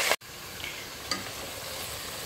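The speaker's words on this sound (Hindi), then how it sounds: "मैंने चिकन डाल दिया, अब थोड़ा सा इसको भूनेंगे," Chicken browning in a pan with fried onions and spices, giving a steady close sizzle broken by a brief gap and a few stirring scrapes.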